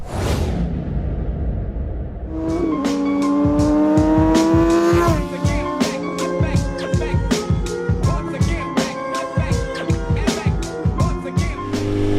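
A 2024 BMW S1000RR sport bike being ridden, its engine revving hard and loud up through the gears with rising pitch and rapid shifts, then throttling on and off in repeated bursts, close up with wind rush.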